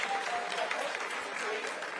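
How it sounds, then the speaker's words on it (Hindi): Applause fills a mission control room during the Chandrayaan-3 lunar landing, a dense, steady clapping from many people at moderate distance that runs throughout. "Lot of applause indicates that till now the performance has been nominal."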